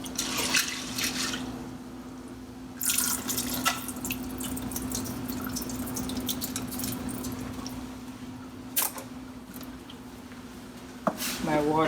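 Beans are rinsed under a running kitchen tap, water splashing and trickling steadily, close up, with a low hum underneath and occasional louder bursts of splashing and handling.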